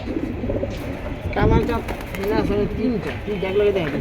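Black military male pigeons coo in low, rolling, repeated calls at close range, with a person talking over and around them.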